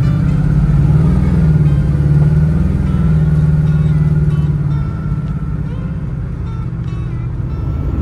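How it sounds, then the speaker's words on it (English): A 1965 Chevy II engine droning steadily as the car drives up the road after a vacuum leak repair, a loud continuous low rumble that eases off slightly toward the end. "I decided to take it up the road and see how the engine reacts to the vacuum leak being fixed"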